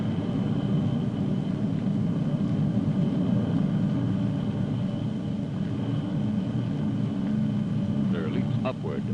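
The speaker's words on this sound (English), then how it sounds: "the huge rocket engines drive the Space Patrol ship deeper into space" Rocket engines fire on a Space Patrol spaceship as a radio drama effect: a loud, steady, dense roar holding throughout, with a brief higher rattle near the end.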